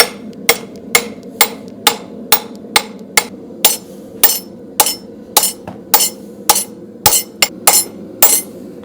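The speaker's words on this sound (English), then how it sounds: "some overlapping hammer blows" A farrier's hammer strikes a horseshoe, flattening it before fullering and nail holes: about sixteen loud, close metallic blows in a brisk, slightly uneven rhythm, some overlapping, with ringing between strikes.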